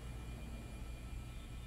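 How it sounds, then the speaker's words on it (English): A New York City subway train in Chinatown rumbles steadily with a deep, continuous low roar, moderately loud and unbroken throughout, with no voices. "and this is the subway train"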